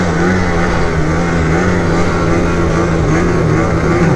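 A snowmobile engine on the season's first ride holds a loud, steady revving drone up close, with a continuous whine and no pauses.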